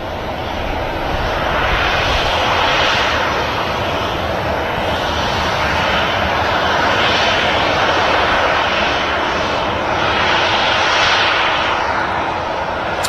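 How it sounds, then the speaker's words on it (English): An Airbus A330 airliner rolls for takeoff at Manchester Airport, its engines a loud, steady roar that swells and surges slightly across the run, heard alone without talk. "The 330 I think is already rolling."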